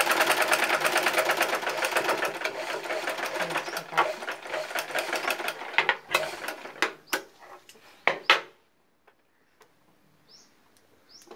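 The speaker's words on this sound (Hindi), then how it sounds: "सिलाई और पक्का कर देते हैं इसमें" A sewing machine runs in fast, steady bursts while stitching down a seam on a tear-drop garment. It clatters loudly for about six seconds, then slows into scattered separate taps and falls quiet.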